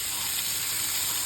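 Vanjaram fish frying in hot oil in a pan, a steady soft sizzle and crackle running evenly throughout, close and alone with no talking.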